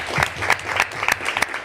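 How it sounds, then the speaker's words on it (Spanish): A small group claps in a brief, uneven burst at a Spanish-language panel event, distinct individual claps sounding fairly close. "Un aplauso para las unidades."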